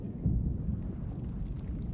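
Low, steady rumble of storm thunder in the survival game Icarus, a continuous heavy roll with a slightly stronger swell near the start and no voices.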